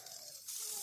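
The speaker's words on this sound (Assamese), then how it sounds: "এয়া বিলাহীটো ভাজি আছোঁ" Tomatoes frying in a pan give off a steady hiss that grows noticeably louder and brighter partway through, a dense sizzle with no talking.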